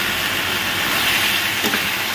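Fish frying in a pan in a home kitchen, a loud, steady hissing sizzle throughout with a small spit or crackle near the end.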